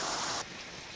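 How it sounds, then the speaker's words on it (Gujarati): Steady heavy rain pours down in Rajula, Jafrabad and Khambha, a dense unbroken hiss filling the whole second, slightly dropping in level partway through, no voices. "જે રીતે વરસાદ રાજુલા, જાફરાબાદ અને ખાંભામાં પડી રહ્યો છે"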